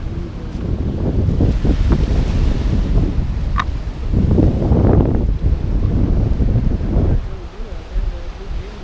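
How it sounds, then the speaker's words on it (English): Small ocean waves at Newport, Rhode Island, a low continuous wash and surge under heavy wind buffeting on the microphone, with a swell of surf in the middle of the clip. "Really small waves too."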